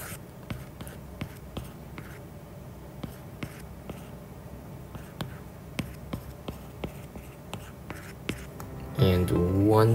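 A pen drawing on paper: soft scratching strokes punctuated by a series of light, regular taps close by, ending with a louder rustle or handling noise.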